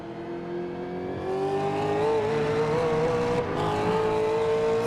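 V8 race cars in the iRacing sim racing game at Watkins Glen roar past continuously, with steady engine drones and a rising, sustained note as the leaders go by; no speech.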